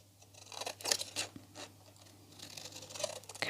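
Scissors snip through craft paper to cut out a small miniature sign in a few close, quiet, crisp strokes with short pauses between cuts.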